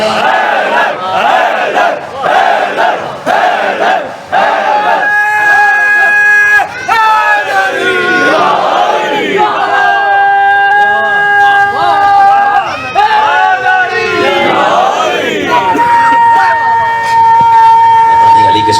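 Audience at a religious speech chants slogans in response, a loud crowd of voices rising together in repeated rhythmic calls, with long sustained tones swelling over the mass of shouting.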